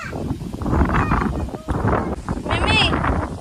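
Wind gusting strongly outdoors at a rural building plot, a broad rushing roar that buffets the microphone throughout, with people talking over it.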